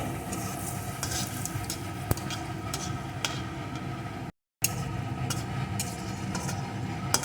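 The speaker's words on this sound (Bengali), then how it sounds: "এখন এই তেলের ভিতরে দিয়ে দেবো দুটো শুকনো লঙ্কা একটু পাঁচ ফোড়ন ফোড়নটাকে ভালো করে ভেজে নেব" Dried red chillies and panch phoron fry in oil in a pan for a Bengali fish curry. A steady, close sizzle carries scattered light ticks and pops, with a brief dropout to silence partway through.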